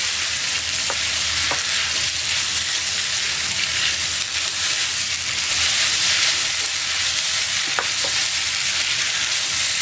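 Capsicum and onion frying in a pan, a dense continuous sizzle that stays loud and even throughout, with a couple of brief clinks of a utensil, close up and with no voices.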